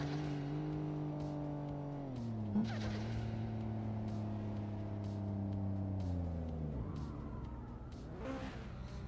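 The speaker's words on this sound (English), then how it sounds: "Just love hearing this turbo, bro." A loud, continuous turbo car engine roar in the video game Star Citizen, turbo-like whine climbing and dropping through several gear shifts.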